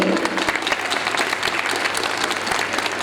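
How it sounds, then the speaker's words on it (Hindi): An audience at a school annual function gives loud applause for the parents, a dense, sustained roar of clapping with a faint hum beneath. "और सबसे जोरदार तालियां तो हमारे पेरेंट्स के लिए होनी चाहिए"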